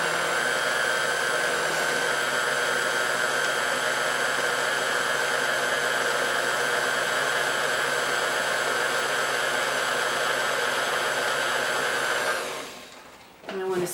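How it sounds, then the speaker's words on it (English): Electric hand mixer whirring steadily through soupy pizza dough batter, a loud continuous motor drone that holds for a long stretch before cutting off near the end. "I'm going to stir this till it's nice and soupy. So use my electric mixer."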